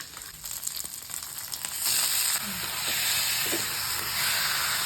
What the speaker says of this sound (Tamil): சின்ன வெங்காயம் வந்து நல்லா செவந்துருச்சு இதில் வந்து ஒரு அரை கிலோ கறி போட்டுக்கணும்